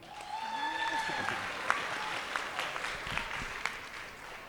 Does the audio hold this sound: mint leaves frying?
no